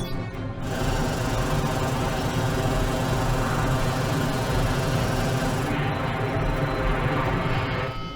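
Film sound of drones flying after release: a loud, steady mechanical buzzing drone with a dense rattling texture runs continuously for about eight seconds, with no talk over it.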